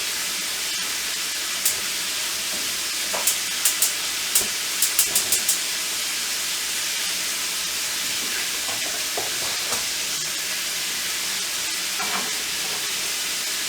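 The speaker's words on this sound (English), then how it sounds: "I'm going to let our butter melt down for a minute." Butter melts in an egg pan on a stove, giving a loud steady hiss and sizzle with scattered sharp pops and ticks, with no voices.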